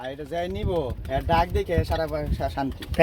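Pigeons at a pigeon sale coo in repeated rolling, throaty calls close by, with someone talking over them throughout.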